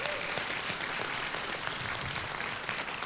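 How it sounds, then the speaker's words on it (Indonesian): A seated audience at a motivational business seminar claps steadily and evenly throughout, a dense, moderately loud roll of applause with no pauses. "Berikan tepukan tanda semua"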